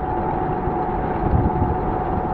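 A local truck engine passing on a Toronto street, a steady loud low rumble that swells slightly midway, with no voices.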